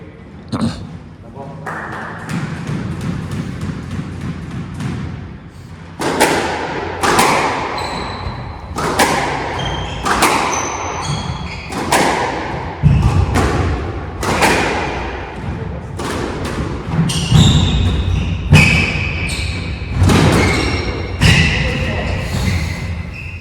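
Squash ball struck repeatedly during a university sports final, sharp hollow thwacks and wall thuds in an echoing court, roughly a dozen hits at an irregular rally pace, with voices and crowd murmur between shots.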